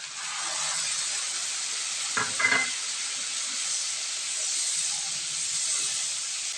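Onions salted with spices fry in a pan with a steady, faint hissing sizzle, broken once by a brief burst of stirring scrapes midway.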